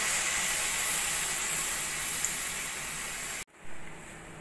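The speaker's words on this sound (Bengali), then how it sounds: "এবার আমি একটা একটা করে মালপোয়াগুলো ভেজে" Mango malpua fry in hot oil in a kadai with a steady, loud, close hiss of sizzling that cuts off abruptly near the end, followed by a brief quieter tail; no talking.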